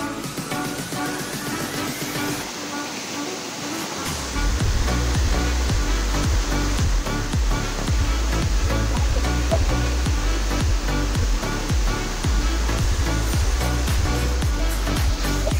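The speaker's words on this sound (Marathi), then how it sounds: "तर काही बघू शकता तुम्ही धबधबा." A waterfall at a dam in Konkan pours with a loud, continuous roar close by, swelling after a few seconds with a deep, rhythmic rumble underneath and no voices.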